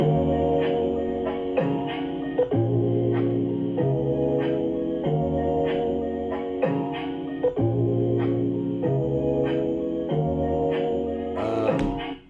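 A sampled music loop plays on its own, a repeating phrase of sustained tonal chords with light percussive hits recurring at a steady rhythm.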